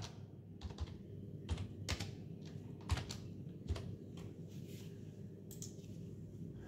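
Keys clatter on a computer keyboard as a book number is entered into barcode design software, a quiet, uneven run of close taps with short pauses between bursts, no voices.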